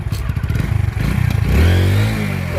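A motorcycle engine on a bike ride, loud and close, puttering in quick pulses, then revving up into a sustained rising drone with road rattle underneath.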